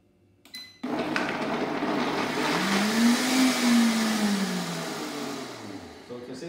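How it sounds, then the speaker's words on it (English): A kitchen blender whirs through green Thai curry ingredients, starting abruptly after a brief clatter and running steadily close by with a rising, then falling motor pitch before slowing near the end. "if the blender behaves itself"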